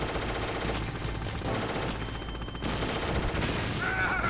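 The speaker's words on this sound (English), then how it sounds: "Go ahead, get your shots off." Sustained gunfire from the Metal Gear Solid video game during a boss fight, a dense, continuous barrage of shots with steady loudness throughout, close and mixed with game sound effects and music.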